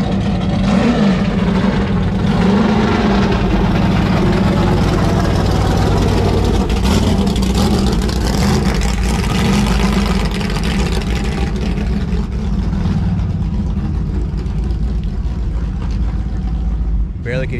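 A supercharged drag race car's engine roars steadily and loudly at a drag strip, a continuous rumble that fades a little toward the end.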